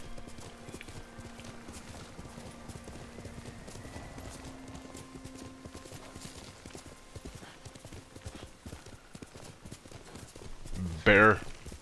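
A horse galloping in the Ghost of Tsushima video game, with rapid hoofbeats pounding steadily for most of the clip alongside in-game sounds, ending with a short loud neigh.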